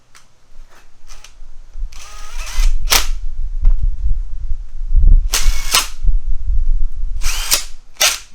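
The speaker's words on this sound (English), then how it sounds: "put these 3 short screws in" Screws fitted into an R380 gearbox oil pump with a power tool or driver, heard as loud close bursts of whirring and ratcheting separated by short pauses and handling clatter.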